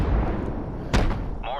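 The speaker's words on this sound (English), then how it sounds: "If you shoot some of the buildings and houses with the 105mm, you'll see it'll just level the house" A 105mm cannon fires in Call of Duty Modern Warfare Remastered, a single sharp thump partway through, set under ongoing low rumble and game noise, with a brief tonal sound near the end.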